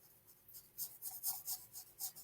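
A pen or marker scratches across paper in short, rhythmic strokes, drawing lines for an ice cream swirl craft design; soft, close and quiet, about eight brisk strokes with no talk.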